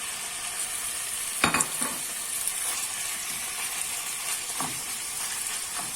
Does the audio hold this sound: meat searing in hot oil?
yes